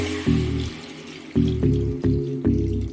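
Tamarind juice is poured into a pot of fish curry in a kitchen. Liquid splashes and gurgles in several short pours, close and fairly loud, with no talking.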